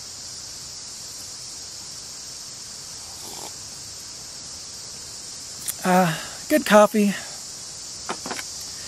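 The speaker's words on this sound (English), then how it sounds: "I don't know if you can hear in the background, there's all these, like, buzzing insects" A steady high-pitched drone of cicadas fills the background throughout at Walnut Canyon National Monument, with a brief burst of nearby voices partway through.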